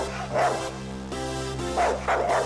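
A pet dog named Rex barks and yips in several short, close bursts, with whimpering between them and a steady hum underneath.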